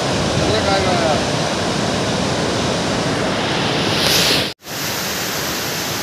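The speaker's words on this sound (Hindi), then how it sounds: "ये छोटा सा जलप्रपात है" Small waterfall at Hundru Falls near Ranchi, a loud, steady rush of falling water filling the whole clip, briefly dropping out for an instant before the roar resumes.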